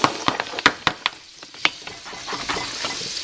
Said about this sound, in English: I'm going to go ahead and add my onions.